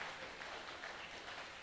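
Audience applause for a couple renewing their wedding vows after 20 years of marriage, a dense, steady patter of clapping from a crowd, sustained and fairly soft.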